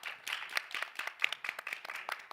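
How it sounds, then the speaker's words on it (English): A small audience gives a short burst of scattered clapping at a COP28 panel session, brisk and fairly close. "A round of applause for Aditi."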